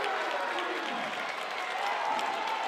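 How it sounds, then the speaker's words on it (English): A high school basketball crowd at York High versus Central York roars in the gym, a steady dense wash of cheering and clapping throughout. "And it's a super loud gym in here tonight, Todd."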